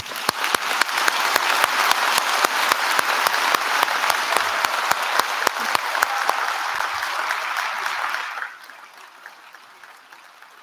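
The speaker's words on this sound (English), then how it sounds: "And we'll have a round of applause." Dense applause from a graduation ceremony audience, loud and sustained with sharp individual claps standing out, then dropping abruptly to a quieter patter near the end.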